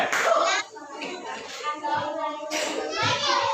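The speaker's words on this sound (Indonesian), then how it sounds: "Beri tepuk tangan buat kelompok kedua" Schoolchildren in a classroom applaud a group, with a short burst of brisk clapping under lively children's chatter and voices close by.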